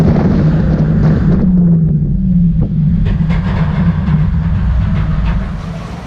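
A ride at Ferrari World Abu Dhabi, an amusement park in the UAE, rumbles past as a steady loud mechanical roar with rattling, track-like clatter that eases slightly toward the end, with no talking.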